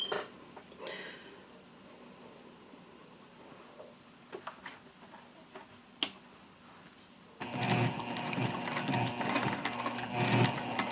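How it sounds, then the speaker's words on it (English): Sewing machine stitching down a zipper tab on a tote bag, preceded by quiet handling clicks and taps, then a loud, steady, rhythmic run of the needle for the last few seconds. "I'm going to start by sewing down the zipper tab, and I'm just going to make a little box around the tab"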